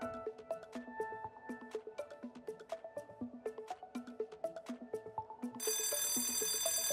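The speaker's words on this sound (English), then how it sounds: "I hear the bell ringing" A rhythmic, repeating electronic chime plays as a school bell marking the end of an online English lesson, its tones pulsing evenly and softly before a brighter, continuous ring takes over near the end.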